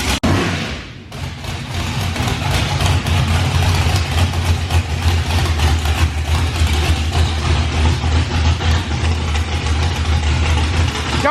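Nitrous-fed big block Chevy car running on a dyno, a loud, steady low roar that holds continuously after a brief lower start.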